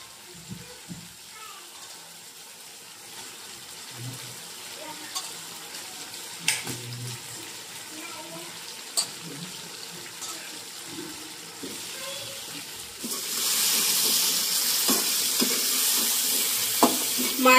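Murrel fish pieces sizzle quietly in masala in a home kitchen pan as a spoon stirs with soft scrapes and taps, before a louder hissing burst rises near the end.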